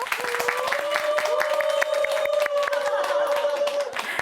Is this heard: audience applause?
yes